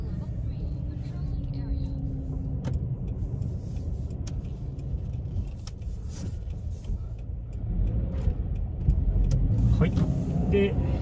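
A Subaru BRZ 2.0 GT with six-speed manual gearbox hums along on a test drive, steady low engine and road noise from inside the cabin that swells slightly near the end, with a voice talking over it.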